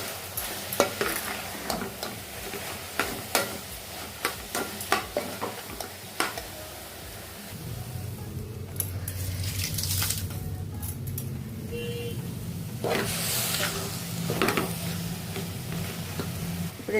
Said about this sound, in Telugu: ఇదిగండి పాకం వచ్చే వరకు కలుపుకుండాలి